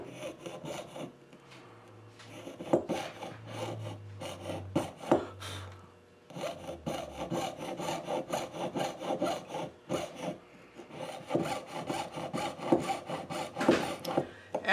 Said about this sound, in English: And I want to saw this as carefully as possible so that I don't have a lot of cleanup to do.